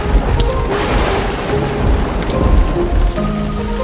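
Heavy rain pours down steadily during a massive afternoon storm, a dense, loud hiss of drops on surfaces with faint rumbles of thunder underneath and no voices.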